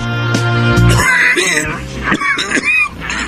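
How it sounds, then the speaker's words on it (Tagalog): A man in a Filipino radio drama coughs harshly and clears his throat, a rough, close, sick-sounding cough that is then followed by strained vocal sounds. "Masama ang tunog ng ubo mo."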